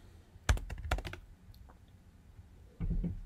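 Someone types commands on a computer keyboard at an old UNIX terminal: a few quick bursts of distinct key clicks, then a pause and another short run of keystrokes, close and fairly quiet.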